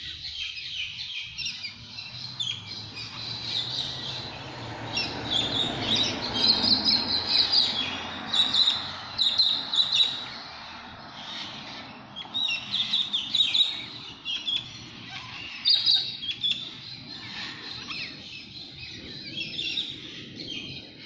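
A flock of grey parrots calls on a Sydney street, with repeated high chirps and squawks overlapping over about twenty seconds. The calls are steady and moderately close, with a constant noisy background and no talking.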